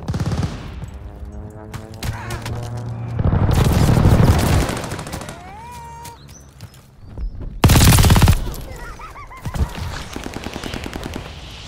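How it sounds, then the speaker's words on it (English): In the Call of Duty Vanguard video game, an allied airstrike sets off heavy rumbling explosions in two loud bursts, mixed with rapid gunfire and scattered game effects between them. "Allied airstrike coming in hot."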